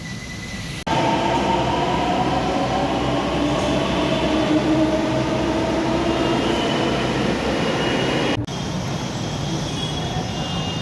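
A metro train at Uttam Nagar East station rumbles steadily and loudly with faint wheel squeal, starting abruptly and continuing for several seconds before the level drops slightly near the end.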